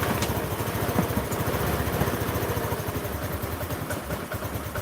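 A Chinese 125 cc scooter engine with a newly fitted carburetor idles low and slightly uneven, a close, steady, rapid putter with a faint irregular wobble and no talk.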